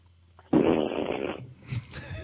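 Fart sounded into a phone during a live football post-game show, a sudden loud flatulent burst lasting about a second, followed by low rumbling noise and faint background sound.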